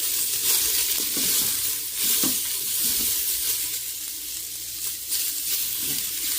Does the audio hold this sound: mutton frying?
yes